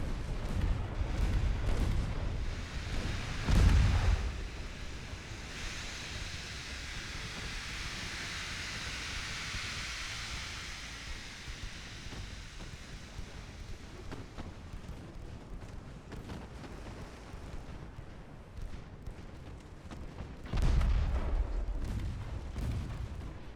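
Warship secondary guns fire at transports in the naval strategy game Ultimate Admiral Dreadnoughts, with heavy booming reports near the start and again near the end over a faint, rumbling battle ambience.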